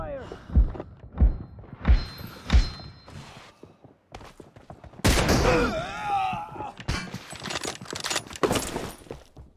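Gunshots in PUBG Mobile: four sharp, evenly spaced shots ring out close and loud, then game effects and announcer voice callouts follow.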